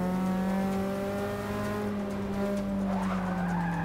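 Sustained tire squeal as a car slides hard around a curve in the racing game Forza Motorsport 6, steady loud engine drone underneath with a rising whine near the end.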